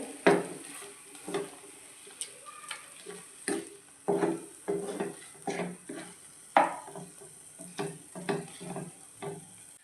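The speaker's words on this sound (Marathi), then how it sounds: "तुपामध्ये चांगली परतले" Mashed banana sautéed in ghee for Maharashtrian banana modak, a spoon scraping and stirring the pan in a steady series of close knocks and scrapes over a faint sizzle.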